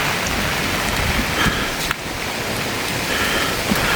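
Heavy rain pours steadily over flooded farmland, a dense continuous hiss close by with no voices and only small shifts in intensity.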